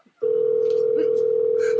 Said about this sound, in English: Hold on. Let me call Tickle Me Gangster.